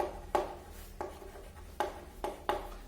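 Chalk or marker on a classroom board makes short, evenly spaced scratching strokes, about five distinct strokes close by against a low steady hum, with no talk.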